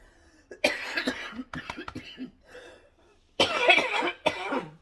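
Several harsh, congested coughs from a lingering chest congestion come in uneven bursts, close and loud, separated by short pauses and quieter breaths.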